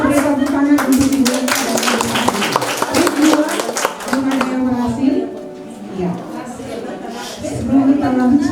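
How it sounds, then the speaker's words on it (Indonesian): Hands clap in a group round of applause during a teachers' workshop session, close and lively, with voices chattering over the clapping as it fades and picks up again. "Oke, kita beri tepuk tangan untuk ibu."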